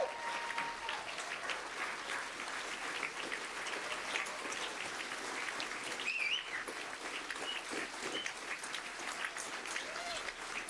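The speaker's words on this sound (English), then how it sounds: "I want you to stand up and give him a hand clapping praise for all that" A standing audience at a 30-year celebration claps in steady, sustained applause throughout, a dense even wash with a few faint whistles and calls mixed in.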